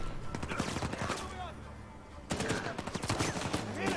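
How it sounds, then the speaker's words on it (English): Gunfire in Uncharted 4: A Thief's End, with bursts of rifle shots cracking in rapid clusters, a lull, then another volley, with speech in between. "we're getting shot from behind"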